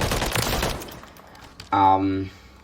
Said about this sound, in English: So I'll just shoot it in the fire range real quick